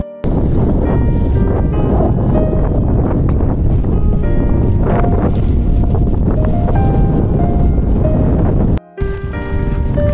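Steady roar of wind gusts buffeting the microphone while sailing a boat under mainsail on Lake Mead, with water and hull noise throughout and a brief dropout near the end.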